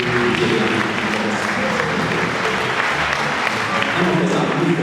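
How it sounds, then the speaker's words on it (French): Church congregation at a worship service applauding continuously, a dense, steady wash of many hands clapping that fills the room, with voices mixed in beneath the applause. "applaudissez mon Dieu parce que il est là."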